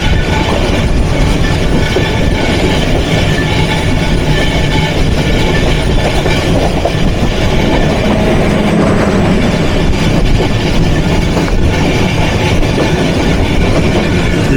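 The Kurigram Express thunders through a railway station without stopping, a loud, close, continuous rumble of wheels and carriages with steady clatter throughout.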